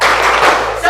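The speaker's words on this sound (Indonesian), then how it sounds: "Oke, tepuk tangan buat semuanya." A group of people clap together in a classroom session at a Hindu religious education teacher training program, giving a dense burst of applause less than a second long.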